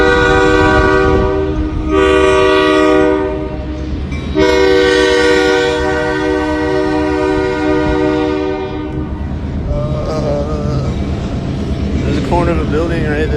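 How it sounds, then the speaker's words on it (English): A train passes close by, sounding a long, loud horn in two sustained blasts with a steady rumble of cars underneath, then fading into wind and rolling wheel noise. "There's a train driving behind me there."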